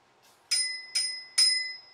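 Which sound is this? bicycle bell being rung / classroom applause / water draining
bicycle bell being rung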